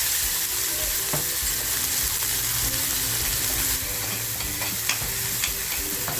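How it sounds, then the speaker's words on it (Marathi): Cumin and green chili sizzle in hot oil, a steady close frying hiss with occasional stirring clinks throughout. "तेल तापत ठेवले जिरं आणि मिरची टेचून घेतली होती ते टाकते"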